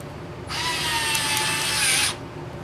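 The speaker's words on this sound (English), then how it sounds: "Put the screw on my Dremel electric screwdriver." A Dremel electric screwdriver drives a screw into a wooden picture frame with D-rings, its motor whirring steadily for about a second and a half, close and fairly loud, then stopping abruptly.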